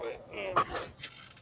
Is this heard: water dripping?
no